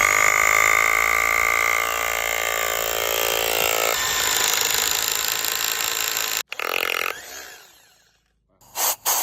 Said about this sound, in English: Drilled through the concrete way easier than it drilled through the wood.